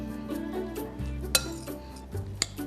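Diced ingredients being mixed into couscous for tabbouleh in a bowl, with a utensil scraping and clinking against the dish in irregular stirs and two sharper knocks, close by, with no talking.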